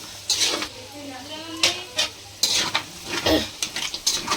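Beef with turmeric and ginger-garlic paste stirred in hot oil, irregular metal spoon scrapes and clacks against the pan over a low sizzle, close up, with faint talk in the background.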